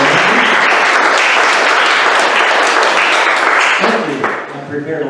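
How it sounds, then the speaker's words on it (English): Polite audience applause at a science and art talk, a dense wash of many hands clapping steadily, then tapering off near the end as a few claps and voices linger. "I'm going to ask us to give him a polite applause while we start."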